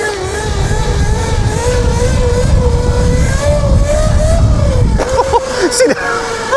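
A 13 kW 84V electric dirt bike pit bike accelerates close by with a loud, rising whine that holds steady, then breaks into brief clattering near the end.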